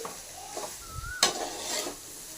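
Cooked cabbage fry is stirred in a pan after the lid comes off, a soft sizzle with a sharp metallic scrape and a few spoon strokes against the pan.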